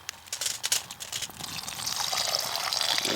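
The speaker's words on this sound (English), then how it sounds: "This water is directly from the little Colorado. I'm going to pour it into this thing" Water taken from the Little Colorado River is poured into a filter, starting as scattered splashes and trickles, then building into a steady, close pouring rush.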